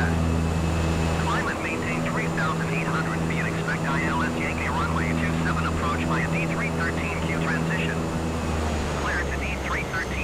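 Airliner engines in Microsoft Flight Simulator roar steadily during a missed-approach go-around, a loud constant hum with a droning low tone, while someone talks over it throughout.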